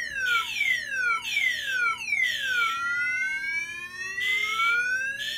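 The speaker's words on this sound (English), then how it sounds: "Makes all those beeping noises." A Directed Electronics 514N soft chirp siren, wall-mounted as part of a fire alarm system, cycles through repeated descending electronic chirps and rising sweeps, loud and continuous with no voices.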